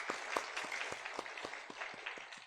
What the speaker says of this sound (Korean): 감사와 우리 축복의 박수